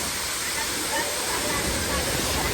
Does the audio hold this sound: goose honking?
no